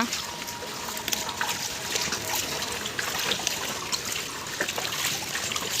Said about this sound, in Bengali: এখানে প্রচুর বৃষ্টি হচ্ছে এখান দিয়ে আমাদের এখানে বন্যা হয়ে গেছে বৃষ্টিতে